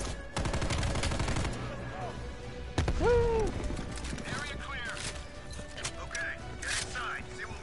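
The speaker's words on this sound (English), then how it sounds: "Who was just shooting me?" Video game gunfire sounds in short bursts of shots, mixed with other game effects, while a player talks over the action.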